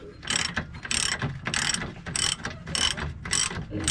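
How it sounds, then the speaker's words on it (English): A ratchet wrench clicks in quick bursts of about seven strokes while removing a bolt during a control arm replacement on a 2002 Infiniti I35, each burst a sharp, close rattle separated by brief pauses. "And using ratchet, just quicker."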